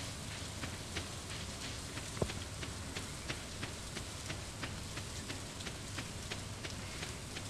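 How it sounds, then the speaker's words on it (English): Steady rain falls in the video game Stardew Valley, a constant hiss of drops with faint, regular patters, even and unbroken throughout. "So we'll just get out of the rain real quick."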